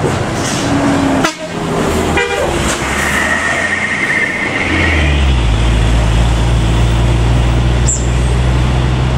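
A heavy ALS intercity bus bound for Medan roars past on a busy road, its engine swelling loudly and then settling into a deep drone. A short horn toot sounds early on, and traffic rumbles underneath throughout.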